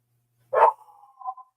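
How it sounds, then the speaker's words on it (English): Dog barking indoors, one sharp bark followed by a short whining tail, heard alone against silence. "There goes my dog."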